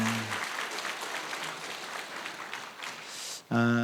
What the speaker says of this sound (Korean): 우리 장로님들이 인사할 때 큰 박수 해주셨으면 좋겠습니다